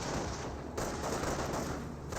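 Dense gunfire roars in a Company of Heroes video game battle, a steady loud wash of overlapping shots and explosions with no pauses for the full two seconds.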